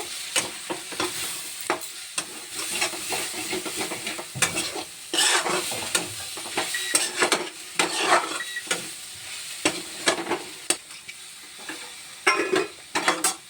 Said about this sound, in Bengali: এখন আবার ঢাকনা খুলে নাড়াচাড়া দিয়ে নেব।